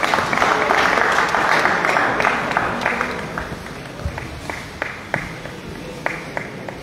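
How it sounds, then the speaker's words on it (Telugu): Applause from an audience at a college Christmas celebration in a hall, a dense round of clapping that thins into scattered individual claps, fairly close and with no talking over it. "చప్పట్లు కొడదామా?"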